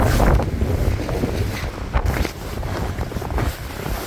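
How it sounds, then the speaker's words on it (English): Strong gusty wind roars and buffets the microphone in extreme cold of about -30 windchill by a river, rising and falling in continuous rough surges with no voices. "It's so windy here at times"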